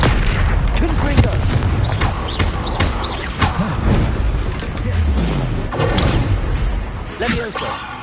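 Confringo fire spells in a wizarding video game explode again and again in heavy booms and thuds, layered with crackling blasts and whooshing effects in a loud, busy stretch of game audio.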